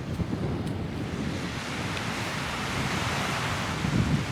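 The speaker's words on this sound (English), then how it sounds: "There's a bit of a breeze down here." Wind and surf on the west coast of North Uist in the Scottish Hebrides: a steady broadband rush of waves with gusting wind buffeting the microphone, continuous and fairly loud throughout, with no voices.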